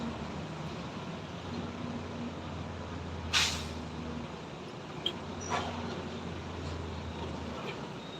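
A trailer truck on the steep Sitinjau Lauik mountain road gives a sharp hiss of air brakes near the middle, followed by a couple of fainter brake releases, over a steady low engine rumble.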